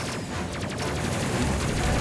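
Missiles launching in the space combat game Space Crew, a rapid burst of shots merging into a dense, continuous rumble of fire.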